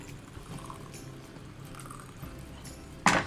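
Boiling water is poured into rice in a pressure cooker: a low, gentle liquid trickle, then a brief louder splashing burst near the end.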